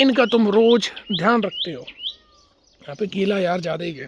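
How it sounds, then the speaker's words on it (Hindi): Birds chirp in a quiet green garden, with short high tweets between and partly under a man's close speech. "और बाकी की जो आवाज़ भी आ रही है वो चिड़ियों की आवाज़ है।"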